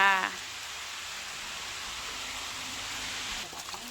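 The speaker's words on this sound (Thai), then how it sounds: "ฝนตกพี่น้องเบิง" Steady rain falls behind a rural house in northeastern Thailand, a constant close hiss of drops filling the whole clip, with a brief voice at the very start.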